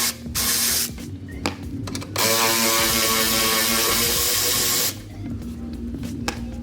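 Air tool bursts spin a 12mm socket loose on the strut top bolts of a Subaru Crosstrek, loud hissing whirs in several pulses, one long sustained run in the middle.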